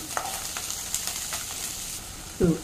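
Vegetables sizzle and fry in a pan while being stirred, a steady close hiss with a few soft clinks and scrapes, and a louder stir near the end.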